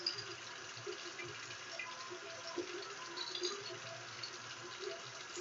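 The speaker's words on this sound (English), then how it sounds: "I'm going to wash my hands, wash my wrists," Hands being washed with soap under a running tap, a faint, steady splash and trickle of water that continues throughout, quiet and close.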